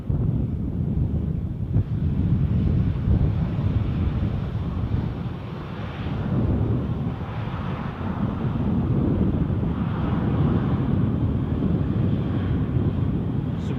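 A jet airliner departing Edinburgh airport gives a continuous broadband roar. The sound is loud and steady and mixed with gusty wind noise on the microphone. No voices are heard.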